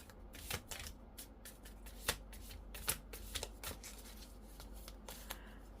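Tarot cards being shuffled by hand: soft, quiet riffling and sliding with sharper snaps and flicks at irregular intervals, close and alone.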